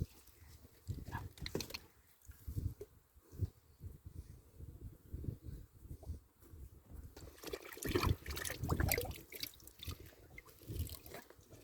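Water trickles and drips in an irregular stream of small splashes and gurgles, moderately close, with brief rustling and handling noises mixed in and no clear talk.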